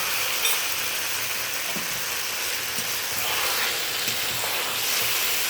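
Ground cashew and poppy seed spice paste frying in a pan over low heat, a dense continuous sizzle with occasional faint scraping stirs, no voices.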